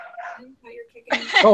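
A dog lets out a loud, sharp bark-like yelp at the end, close by, following brief indoor talk from a person.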